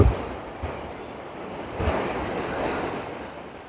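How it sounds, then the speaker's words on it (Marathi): Sea waves wash against the Mumbai shore, a broad, rolling surf roar that swells and recedes, with wind buffeting the microphone and no voices. "समुद्र"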